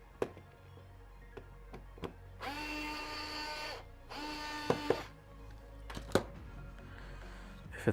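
An electric screwdriver backs screws out of a Voron v0.2 3D printer frame in two whirring bursts, mixed with sharp clicks and taps of small parts and tools, quiet and close.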